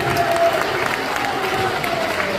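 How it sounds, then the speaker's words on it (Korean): Audience applause at a church press conference, a brief burst of dense clapping and crowd noise with a voice sounding over it. "박수!"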